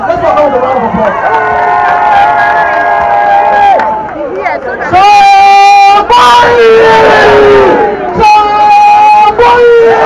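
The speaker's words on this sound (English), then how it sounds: "Let's welcome him with a round of applause." An audience at a gathering of law students cheering loudly with high shouts and whoops in uneven bursts. A brief lull comes midway before a bigger swell of voices rises again.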